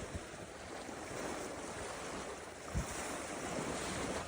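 Steady cold wind roars across the microphone outdoors, a continuous rushing hiss with one brief thump partway through.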